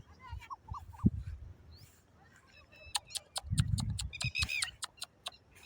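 A dog barks a few times at a distance, faint, among outdoor noises and occasional bird calls, on a forest path near the seashore.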